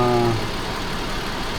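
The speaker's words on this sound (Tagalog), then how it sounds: "So banda na yung makina." Toyota FJ Cruiser engine idling nearby after an oxygen sensor was refitted, a steady low rumble with a brief tonal hum at the start.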